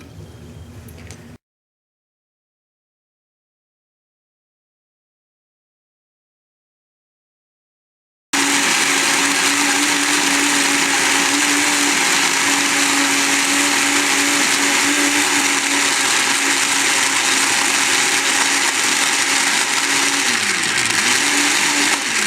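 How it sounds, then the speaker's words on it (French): Laboratory blender puréeing liver with 300 ml of water: a brief burst of noise, several seconds of silence, then a loud, steady motor whine that runs on alone to the end. "Le foie est ensuite ajouté dans le mixeur"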